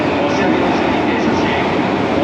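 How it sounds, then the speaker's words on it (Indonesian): A commuter train pulling into a station in Japan, a loud steady rumble of rolling wagons with a dense rushing noise, constant and close for the whole stretch. "kereta yang mau kita duduki akhirnya datang juga"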